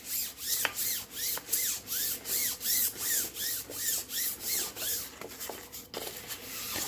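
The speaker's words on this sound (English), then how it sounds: "I'm going to take a nylon brush" Nylon brush scrubbing metal parts of a Texas Power Bar in quick rhythmic back-and-forth strokes, about two per second, close and fairly quiet, no voices.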